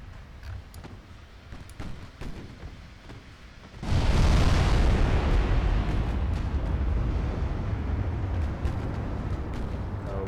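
A 20-inch naval gun shell strikes a destroyer in Ultimate Admiral Dreadnoughts: quiet sea ambience with a few distant thumps gives way to a sudden loud broadband blast that holds as a sustained roaring rumble, no voices.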